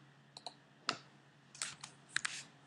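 Keys tapped on a computer keyboard at a desk, a few sparse clicks in small bursts, near and fairly quiet against a low steady hum, no talking.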